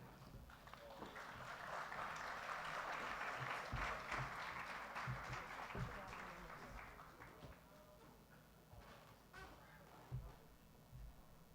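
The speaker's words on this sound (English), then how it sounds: "Another round of applause" Audience applause at the Jamaica 55 Diaspora Conference awards ceremony, a broad sustained patter of clapping that swells and holds for several seconds before thinning out and fading, fairly quiet and distant.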